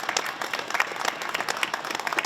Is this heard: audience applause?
yes